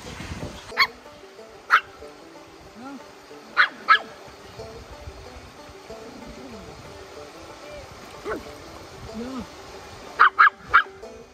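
A wet little dog gives several sharp barks and yips at irregular intervals, a quick cluster near the end, with voices talking softly in between.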